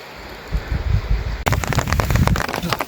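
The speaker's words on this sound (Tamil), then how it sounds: "அடை மழை ஸ்டார்ட் ஆகுது" Heavy rain starting on a walking route between Kodaikanal and Thandikudi, first a soft patter that abruptly swells into a loud, dense downpour with gusty rumbling close to the microphone.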